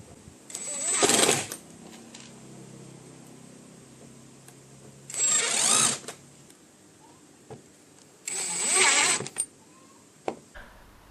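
A 12-volt cordless drill drives a self-tapping screw into a board in three separate whirring bursts, each about a second long with quiet gaps and small clicks between them, close and fairly loud.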